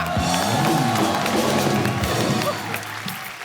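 A studio audience on The Kapil Sharma Show gives loud, continuous applause and cheers for a music trio. The crowd noise is dense and sustained, with a low rumble underneath that fades slightly toward the end.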